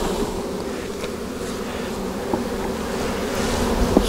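Honeybees shaken off a nectar-filled hive frame during a June hive check give a steady, dense buzz. It holds at a constant moderate level throughout with a few faint knocks.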